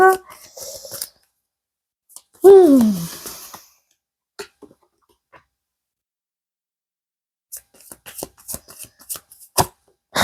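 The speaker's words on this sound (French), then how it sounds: "on va aller tirer trois nouvelles cartes" Tarot cards are shuffled and drawn, a close papery riffle and slide followed by a few soft card taps and flicks; a voice is briefly heard amid quiet gaps.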